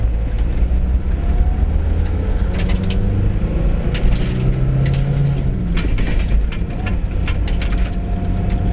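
A 1977 Toyota Celica climbing a hill, its engine droning steadily with mechanical rattles and clicking, loud and continuous from inside the car, with no talk.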